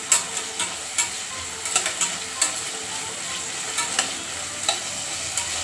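Chopped tomatoes fry with onions in a pan for a mushroom biryani, a steady sizzle broken by repeated scraping and stirring clicks from a spoon, up close and with no voices.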